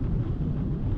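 Broadband wind rush at speed around an Opel Astra hatch with a 180 hp engine, running in seventh gear near 226 km/h, a steady loud roar with low engine drone blended beneath and no talk.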